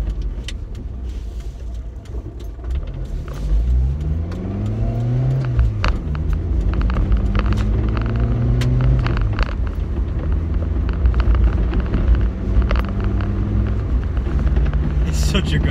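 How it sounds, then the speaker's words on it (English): Interior engine drone of a 1991 Rover Metro with K-Series engine accelerating while driving, rising harmonics climbing through gears over a rough road surface, steady and close, with a voice talking over it. "it's quite high-pitched, but it's a sweet,"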